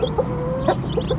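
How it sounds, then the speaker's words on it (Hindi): A black hen sitting with her chicks tucked beneath her gives soft, short clucks in a quick irregular series, close by and fairly quiet, with no speech. "वो देखो भाई मुर्गी नीचे लेके बैठी है अपने पारे पारे काकों को।"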